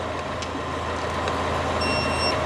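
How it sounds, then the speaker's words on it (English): A torque wrench gives a steady electronic beep tone near the end over a constant mechanical hum, with no talking. "I want a torque wrench that beeps."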